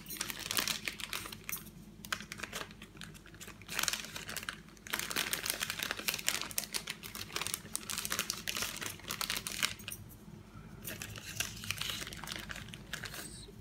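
A thin plastic baggie crinkles and rustles almost continuously, close and fairly quiet, as peanut butter Easter eggs are dropped into it.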